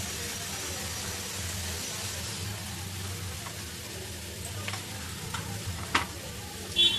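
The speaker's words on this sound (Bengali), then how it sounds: "পেঁয়াজটা একটু হালকা ব্রাউন করে নেব।" Onions frying in oil and stirred until light brown, a quiet steady sizzle with occasional scraping stirs and a couple of louder clinks toward the end, no talk.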